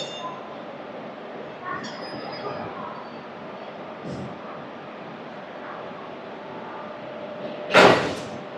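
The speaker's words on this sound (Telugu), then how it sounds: "జస్ట్ ఈ ట్రైన్ రన్ మాత్రమే చూపిస్తాను." The 12718 Ratnachal Express, hauled by a WAP-4 locomotive on the final day of its ICF coaches, runs with a faint, steady rumble before a sudden loud clatter bursts out near the end.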